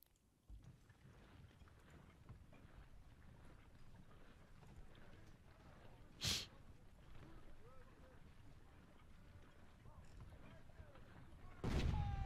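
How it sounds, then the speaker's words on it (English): Cannon artillery fire in the Ultimate General: Civil War battle game at Iuka, with two loud booming blasts, one near the middle and one at the end, over a steady bed of distant battle noise while someone talks. "Man, those cannons."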